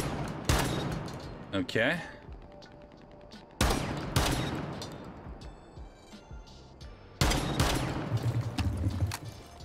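Spas-12 shotgun blasts in Rainbow Six Siege, three loud booming shots spaced a few seconds apart with ringing tails and scattered game sounds between, while a voice speaks briefly.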